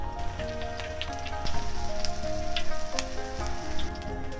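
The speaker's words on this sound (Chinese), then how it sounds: "煎香肠吃早餐。" Sausages of fresh meat and taro in casings frying in a pan for breakfast, giving a steady, busy sizzle and crackle with a few sharper pops throughout.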